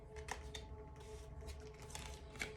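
Tarot cards being shuffled by hand, soft quiet riffling and papery slaps in short uneven bursts, close and faint, with no voice over them.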